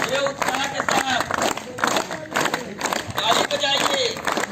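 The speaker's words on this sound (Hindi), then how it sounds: "ताली बजाइए।" A crowd of NCC cadets clapping in bursts, with babble and voices in between the rounds of applause.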